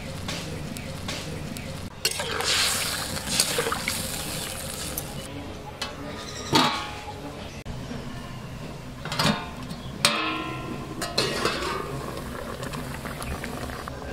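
Water poured into a pan of frying mango: a loud, steady bubbling sizzle with clinks of a utensil and a few sharp clatters against the pan, all close and continuous throughout.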